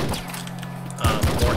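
Rapid revolver gunfire in the video game Nuclear Throne, a steady tone followed by several punchy, loud shots in quick succession with a player's voice talking over the game.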